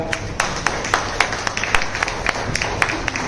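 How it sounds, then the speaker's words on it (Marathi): Loud applause for a student at a book launch ceremony, many hands clapping in a dense, steady patter with sharp individual claps standing out, continuing for a few seconds. "दर्शनसाठी एकदा जोरदार टाळ्या होत्या."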